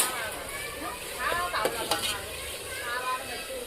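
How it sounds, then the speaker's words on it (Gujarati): Dal tempering sizzles and crackles in a pot on a stove as a spoon scrapes and stirs through it, a steady hiss with a few sharper clinks, close by. "જો દાળનો વઘાર કરી નાખ્યો છે"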